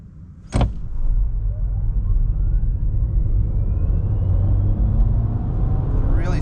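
A 2024 MG3 Hybrid accelerates hard at full throttle, a steady engine drone rising in pitch after a brief sharp noise at the start.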